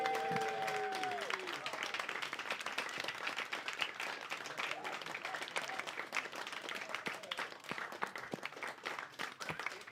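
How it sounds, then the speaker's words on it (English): Dense, steady audience applause and clapping fills a comedy club as comedian James Connell walks to the stage, with a host's voice briefly heard at the start. "keep your rounds of applause going for a little bit"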